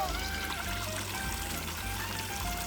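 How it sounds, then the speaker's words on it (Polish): Water poured from a container, likely into a pressure garden sprayer, a steady continuous trickling stream running throughout with low rumbling undertones and no speech. "nalejemy trochę wody"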